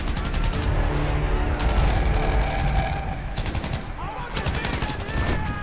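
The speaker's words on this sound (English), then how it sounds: "We got the MG34." An MG34 machine gun fires in Battlefield V, sustained rapid bursts of loud, close automatic fire with brief pauses between them, over a busy battlefield din.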